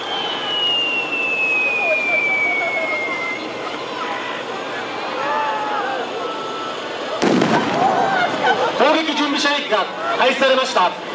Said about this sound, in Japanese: 攻撃部隊が攻撃を開始する前に敵の陣地に対し迫撃砲による射撃を行い敵を制圧します